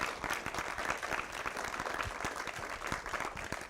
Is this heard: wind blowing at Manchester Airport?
no